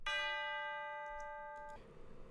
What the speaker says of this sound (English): tubular bells, like I said, just hitting on tonic